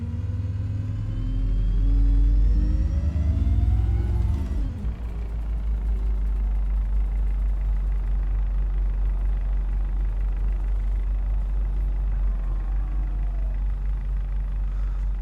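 A simulated bus engine in the OMSI 2 driving game pulls away under throttle, a deep droning rumble rising in pitch over a few seconds, then settling into a steady low hum as the vehicle rolls on.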